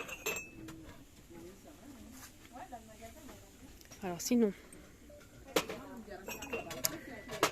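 Ceramic cups clink and tap lightly as they are handled, giving scattered short knocks while someone talks over them.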